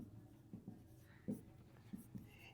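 Pen scratching across paper during a Class 9 maths lesson on number systems, a series of soft, close scrapes and taps in an uneven rhythm over a quiet room hum, with no talk.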